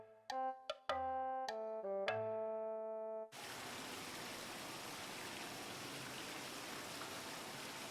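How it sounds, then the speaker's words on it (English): A few bright chime notes ring out, then a steady rushing roar of a waterfall and flowing stream inside a cave takes over, continuous and fairly soft. "In the cave, Tom and the others found a waterfall unlike any they'd ever seen before, with shiny pebbles in the stream that flowed from it"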